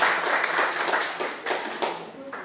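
An audience at a Windham County Senate candidates' event claps in steady applause, dense and sustained throughout, with voices faintly mixed in.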